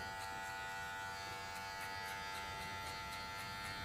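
A hair clipper buzzes at a constant pitch while cutting along a line during a platinum blond restyle, with faint rhythmic snips of hair, fairly quiet and without talk.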